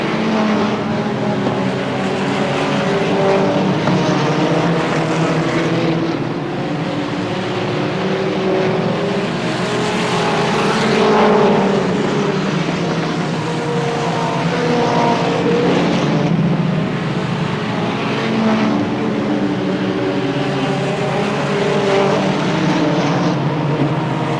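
Stock cars race at Star Speedway, a dense, loud roar of engines that swells and fades in waves as the cars sweep past, lap after lap.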